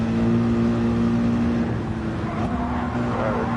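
A race car's engine in Gran Turismo 7 during a Nürburgring 24-hour endurance race, droning steadily at close range with a shift in pitch as it downshifts.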